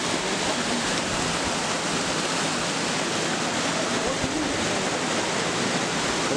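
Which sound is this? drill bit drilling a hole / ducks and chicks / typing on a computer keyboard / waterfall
waterfall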